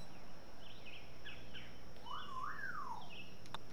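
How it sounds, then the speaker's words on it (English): A pet bird chirps in a room, sounding several short, bright tweets and a rising-and-falling whistled call at moderate distance over quiet background hiss. "That's my bird in the back range"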